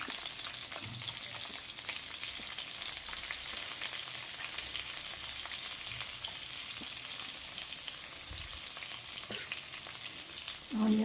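Chopped onions sizzle and crackle in hot tempering oil for a gongura curry, a steady close frying hiss with occasional stirring scrapes and no talking.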